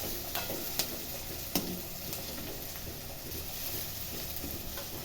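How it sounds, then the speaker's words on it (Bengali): Chopped onions sizzle steadily in oil left from frying fish heads, a constant close hiss broken by a few sharp clicks of stirring. "আমি এই মাছ ভাজার মুড়ো ভাজার তেলটার মধ্যে পেঁয়াজ কুচি দিয়ে দিয়েছি"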